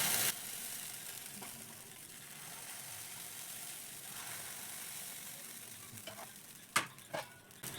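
Small rounds of batter cook in a pan with no oil, giving a steady soft sizzle that holds throughout, with a few sharper clinks and scrapes near the end.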